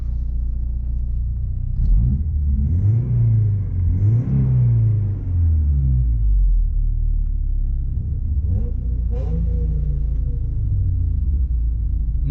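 A pickup truck engine rumbles deep and loud, rising and falling through a couple of revving surges, a steady close drone with no voices.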